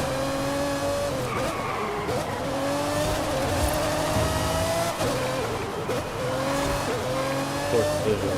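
Car engines roaring and tires squealing in the racing video game Forza Horizon 5; continuous loud engine drone with repeated rising gear pulls and skidding, while a voice talks over it.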